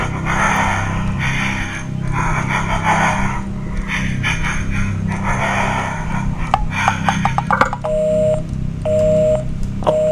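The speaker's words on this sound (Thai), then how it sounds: "น่าจะเป็นพวก call center โรคจิตอีบ้ามา breathing" Over a phone in the horror video game Evil Inside, slow, heavy breaths rise and fall in repeated rasping surges beneath a steady low hum, ending with a few short electronic beeps.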